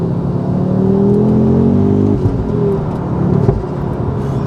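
Ford Focus RS MK2 fitted with a Milltek exhaust and Wagner intercooler accelerating in second gear on a dual carriageway, heard from inside the car as a loud steady engine drone rising in pitch, then easing as the revs drop.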